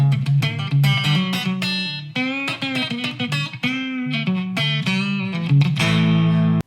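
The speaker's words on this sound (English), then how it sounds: "I'm going to try a little chicken pickin'." Electric guitar played with chicken pickin' hybrid picking, pick and fingers plucking snappy, twangy single notes and double stops in a quick, bouncy country phrase, up close and alone.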